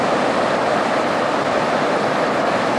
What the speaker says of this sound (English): Just sitting by the edge of the river,